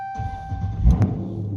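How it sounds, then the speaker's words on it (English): A car fitted with a Z Automotive Tazer module starts up in a garage, a brief cranking rumble that swells at the midpoint and settles into a low idle under a faint electronic chime tone. "So I'm going to crank up my car"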